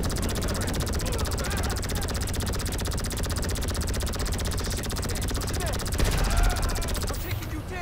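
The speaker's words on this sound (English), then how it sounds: "Another chopper coming in." A helicopter approaching during a GTA Online super yacht mission: a steady, fast rotor chop throughout, mixed with bursts of rapid gunfire and a brief louder swell near the end.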